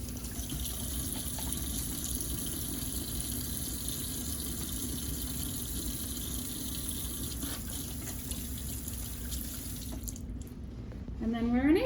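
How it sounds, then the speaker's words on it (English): Running tap water pours steadily into a sink while hands are washed, a close continuous splashing rush that grows louder and more turbulent near the end. "And then wash my hands."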